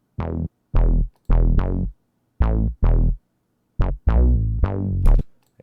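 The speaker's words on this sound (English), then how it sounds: "This is just the sine bass from Purity, but I also turned on the slide on here." Sine sub-bass synth from the Purity plugin with glide enabled, in a West Coast G-funk beat: a rhythmic pattern of short and longer deep bass notes separated by silences, loud and dry with nothing else playing.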